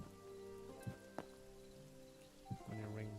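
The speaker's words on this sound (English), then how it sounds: "When it rains in this game." Rain falls in the blocky fantasy video game Hytale, a steady soft patter under sustained musical tones, with a few brief thumps and knocks in between.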